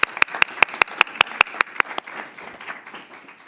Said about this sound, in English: Let's give our board a round of applause while they're coming up.